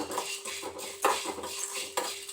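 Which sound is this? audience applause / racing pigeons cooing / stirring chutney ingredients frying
stirring chutney ingredients frying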